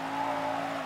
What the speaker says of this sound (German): Kleinen Unfall gemacht.